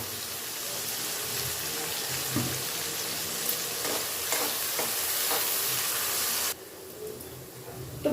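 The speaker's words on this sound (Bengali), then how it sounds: "পেঁয়াজ গোল্ডেন করে ভাজা হয়ে গেছে" Lightly salted onions fry to golden in a pan for aloo dum, crackling steadily while a spatula scrapes and stirs in intermittent strokes; the sizzle briefly drops out near the end before resuming.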